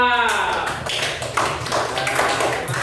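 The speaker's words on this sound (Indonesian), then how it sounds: "Tepuk tangan untuk Mas Alta." A classroom of students applauds a classmate, with a burst of quick, uneven clapping from several pairs of hands nearby, mixed with voices talking.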